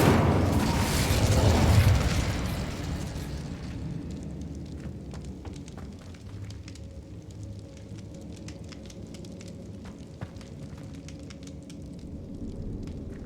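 Incendio fire spell in the video game Hogwarts Legacy erupts as a loud, roaring burst of flame for the first few seconds, then dies down to a low crackling burn with faint pops lingering quietly.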